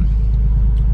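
A Nissan 370Z engine fitted with a Pedal Commander idles after starting up, a loud, close, steady low rumble filling the second without any talking.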